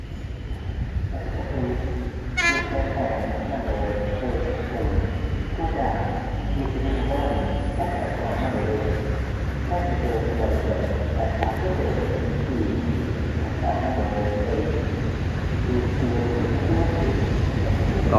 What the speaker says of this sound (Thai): ขบวนที่341กรุงเทพชุมทางแก่งคอยในวันอาทิตย์นะฮะ